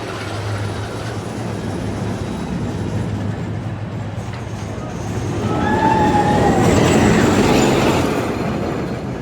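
A roller coaster thunders along its track at a summer theme park, a steady broad rumble with rattling wheels that swells louder and closer partway through as the train passes, then stays strong.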